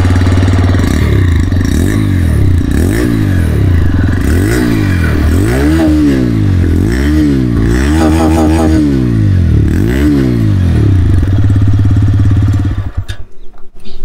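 A TVS Raider 125 motorcycle engine idles loudly and is revved repeatedly in rhythmic bursts, the exhaust rising and falling close by before cutting off at the end.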